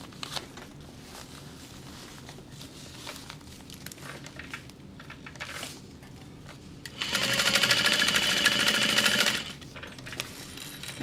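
Sewing machine stitching a bag seam: after scattered soft fabric handling and small rustles, the motor runs in a loud, steady burst of rapid stitching for a few seconds, then cuts off, close up with no talking.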